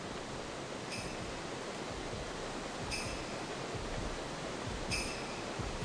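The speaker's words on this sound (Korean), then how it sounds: "이거 폭포 소리 때문에 내 발자국 소리 안 들리지 않았다?" Steady rushing waterfall roar in a dark horror video game corridor, a broad continuous wash with faint high chimes repeating about every two seconds.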